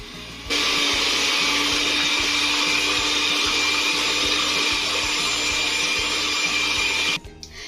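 An electric hand mixer whirs steadily at high speed for several seconds beating orange cake batter, close and loud, with a faint rhythmic thumping underneath, then cuts off.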